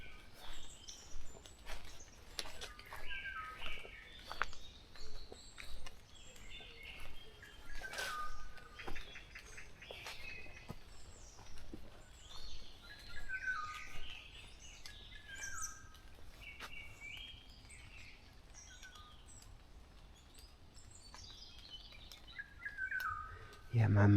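Wild birds sing in the morning with a busy chorus of varied chirps, tweets and whistles, some near and some farther off, over quiet outdoor ambience.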